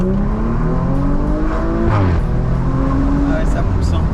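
An Audi RS4 ABT-R engine revs loudly from inside the car, its tone climbing steadily in pitch, dipping briefly, then climbing again as the car pulls hard.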